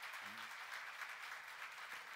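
A church congregation claps during a sermon gathering, a steady wash of many hands held at a moderate, even level for the whole stretch with a faint voice briefly at the start.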